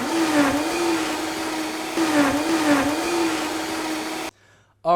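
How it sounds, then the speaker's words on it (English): A countertop blender whirs loudly, blending a smoothie with filtered water, its motor pitch wavering in a few surges for about four seconds before it cuts off abruptly, followed by a brief rising whine. "Put the lid on and blend away."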